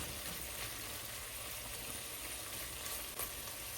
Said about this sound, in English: I'm just letting it brown in its own juices